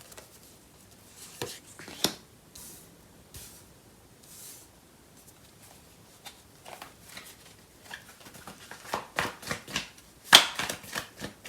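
Tarot cards are shuffled by hand in a string of quick, papery riffles and taps that grow denser and louder toward the end.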